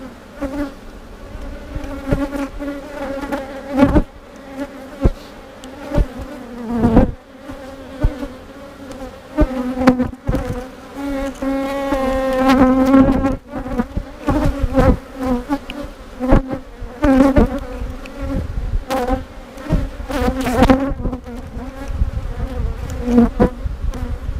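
Honeybees buzz steadily around an open hive during a brood-frame inspection, a dense, close, continuous drone with shifting pitch and frequent knocks and bumps from handling frames.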